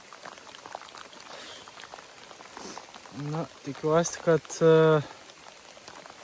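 Heavy rain falls in Norway during a bicycle trip across Europe, a continuous close hiss of drops that a voice talks over midway through.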